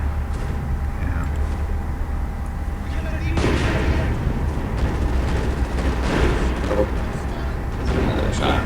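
Gunfire and artillery booms from the Company of Heroes strategy game rumble in a dense, continuous battle bed, with a heavier burst partway through, under commentators talking.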